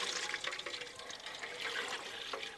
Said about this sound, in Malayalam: ഇനി നമുക്കിതിൽ വെള്ളം ഒഴിച്ചു കൊടുക്കാം